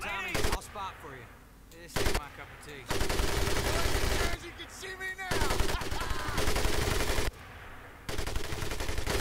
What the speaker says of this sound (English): M1919A4 30 caliber machine gun.